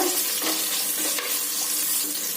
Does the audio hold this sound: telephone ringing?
no